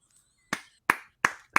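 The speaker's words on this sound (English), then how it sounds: "Slow clap." Four slow, deliberate hand claps spaced evenly about a third of a second apart, close and crisp against near silence.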